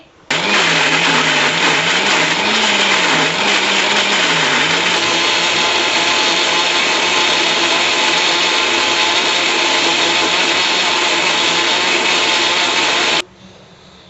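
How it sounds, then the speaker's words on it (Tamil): A wet grinder grinds soaked barley into idli and dosa batter with a loud, steady motorized whir. The pitch wavers early on, and the machine runs for about thirteen seconds before stopping abruptly, with no voices. "அஞ்சு மணி நேரம் ஊறிடுச்சு இப்போ நான் அரைக்கிறேன்"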